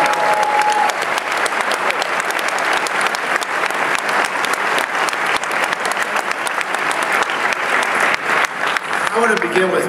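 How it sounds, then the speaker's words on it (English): An audience at an AFP event applauds steadily for nearly ten seconds, dense sustained clapping at even loudness with a brief voice at the start. "let's give her a round of applause"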